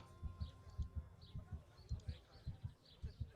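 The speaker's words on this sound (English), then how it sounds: "I don't like hearing my heartbeat like this." A steady, faint heartbeat in the video game Kingdom Come Deliverance, a regular low double thump repeating about every half second throughout, with soft ambient background sounds and no talking.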